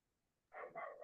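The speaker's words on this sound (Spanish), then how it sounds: "Perdón, que andan mis perros también por acá" Pet dogs barking nearby in a home: after half a second of quiet, a cluster of loud, close barks bursts out and keeps going to the end.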